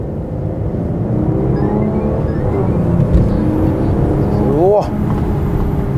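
A Maserati Quattroporte sports saloon's engine accelerates under steady road and cabin noise, with rising harmonic pitch sweeps toward the end and a brief voice exclaiming over it.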